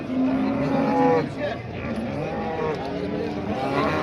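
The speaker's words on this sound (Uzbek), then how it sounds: "Akalar juda baland sigir." A tall cow lows at a busy livestock bazaar in Samarkand, its long moo standing out amid a steady din of crowd noise and people talking nearby.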